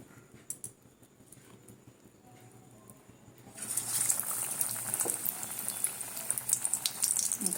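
Soybean and potato chops drop into hot oil and begin to fry, a dense bubbling sizzle that swells suddenly and holds steady near the pan, with scattered crackles and no voices.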